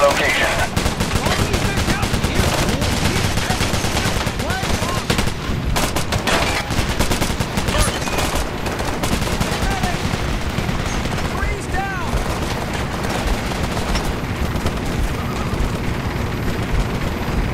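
Sustained automatic gunfire rattles in a video game cut-scene set in an urban battle, dense and loud bursts overlapping with a helicopter-like drone and shouted voices throughout.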